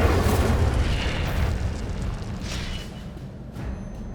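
An Incendio fire spell cast in Hogwarts Legacy gives a sustained roaring, whooshing burst of flame, loud and steady at first, then slowly easing off.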